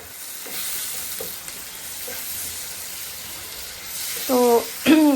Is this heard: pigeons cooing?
no